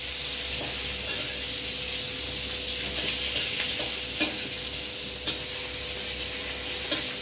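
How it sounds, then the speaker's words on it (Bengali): Fish curry of morola fish with tomato and whole green chilies stirred in a pan over a gas flame: a steady frying sizzle with a few soft scrapes and taps of the spoon, nearby and with no talking. "এবার আমি এগুলোকে ভালো করে সব একসাথে মিলিয়ে এটা আমি লো ফ্লেমে গ্যাসে বসিয়ে দেবো হতে।"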